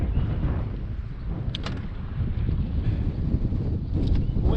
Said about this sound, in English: There's going to be some wind noise on today's video.